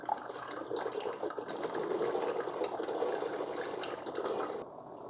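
Water leaks and splashes around a reusable K-cup filter in a Cuisinart SS-GB1 Grind & Brew Plus coffee maker, a steady close trickle and pour that runs throughout with no talking.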